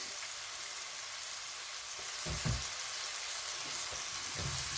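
Chili garlic sauce and tomato ketchup being mixed in a hot pan for beef chilli dry, a steady broadband sizzle with a few low stirring bumps, close and continuous, no voices.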